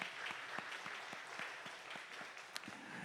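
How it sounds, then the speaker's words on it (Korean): A church congregation applauds at an Easter Sunday worship service, with steady rhythmic claps carrying faintly in a large, reverberant room. "부활하신 그 예수님께 영광의 박수를 올려드리겠습니다"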